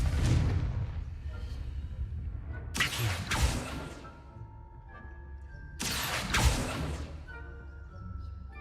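A blasting spell cast in the wizarding game Hogwarts Legacy erupts in two loud whooshing bursts a few seconds apart, each followed by a rumbling blast over a low game ambience.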